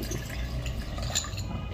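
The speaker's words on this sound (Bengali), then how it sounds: "আমি আইসে পানিটা একটু দিয়ে দিই" Water is poured onto ice, a close, continuous trickling and splashing with light glassy clinks running steadily throughout.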